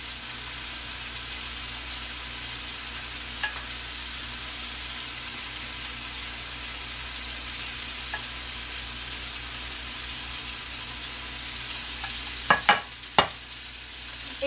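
Chicken searing in a pan sizzles steadily as leftover marinade is spooned onto it, a constant frying hiss with a few sharp clinks of the spoon near the end.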